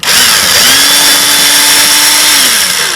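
A power drill whines loudly and close, revving up, holding a steady high pitch while boring an anchor hole into stucco siding, then winding down.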